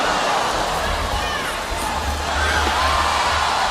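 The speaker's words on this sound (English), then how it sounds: "the crowd's oohing and ahhing" Dense arena crowd at a Pacquiao vs Algieri boxing match, a loud continuous roar of voices with swelling murmurs of oohs and ahs, no single voice standing out.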